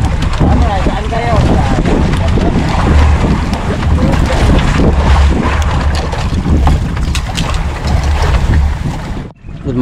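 Strong wind buffeting a small boat at sea, loud roaring gusts and microphone wind noise over sloshing waves and engine rumble, with voices talking underneath before a brief sudden drop near the end.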